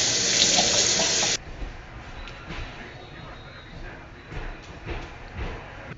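Water from a kitchen sink tap runs in a loud, close hiss for about a second and a half and then cuts off, followed by quieter clinks and shuffling of dishes being cleaned.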